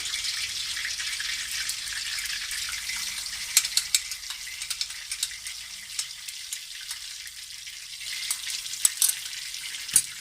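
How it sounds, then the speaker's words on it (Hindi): A paste of ground onion, tomato and spices fries in ghee, a thin, steady sizzle with scattered crackles and occasional stirring clicks, close and alone. "इसका पेस्ट को बहुत अच्छी तरह से हम इसको भूनेंगे घी के अंदर"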